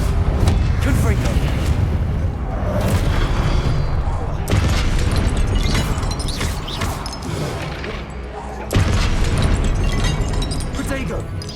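Loud booming blasts from the Confringo fire spell in the video game Hogwarts Legacy, several heavy explosions in quick succession mixed with crashing combat noise and shouted spell incantations.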